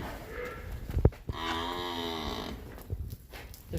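A female buffalo at a livestock sale lets out a single drawn-out, low bellowing moo in the middle. It is framed by faint knocks and background bustle at moderate distance.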